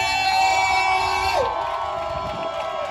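Wedding guests at a celebration shout and cheer together as a sustained, loud crowd roar, with music or a steady tone running underneath.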